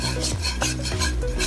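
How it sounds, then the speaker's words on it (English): Homemade chocolate sauce stirred steadily in a pan as it thickens, a close, continuous rasping scrape of the spoon with repeated strokes roughly every third of a second, no talking. "we just have to continue mixing and stirring until this will come to a full stop, because the sauce will really get thickened"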